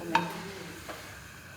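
Grated coconut being stirred and roasted dry in a pan with cardamom, cinnamon bark and bay leaf for black coconut curry, a brief scrape and light sizzle, faint and close, no talking.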